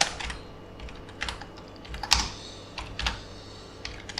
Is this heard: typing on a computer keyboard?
yes